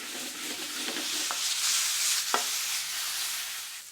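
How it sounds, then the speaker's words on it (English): Chopped garlic and green chili sizzle steadily in a hot pan while being stirred and mixed, with soft scraping and a sharp clack of the utensil near the middle of the clip. "add the green chili to the pan and mix the ingredients together."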